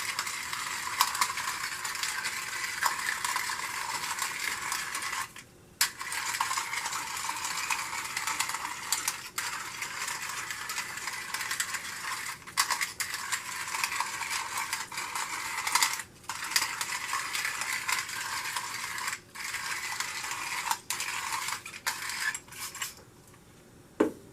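Fresh black pepper cracked from a grinder over a pot roast, a steady close gritty crunching that runs in long stretches with a few brief pauses.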